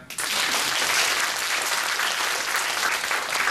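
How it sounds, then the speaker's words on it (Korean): A school audience applauds a mentor speaker with steady, dense clapping that holds loudly from just after the start to the end, with no voices over it. "여기서 박수 한번 쳐주실까요?"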